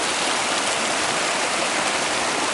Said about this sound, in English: this stream is dumping into another reservoir, a little small one there, about a half mile that away